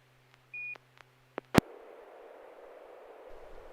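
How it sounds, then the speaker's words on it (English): A short electronic beep on a ham radio net signalling a transmitter timeout, followed by brief clicks and a sharp burst, then quiet hiss, with no voices. "When I run out of time and all of a sudden I hear the beep"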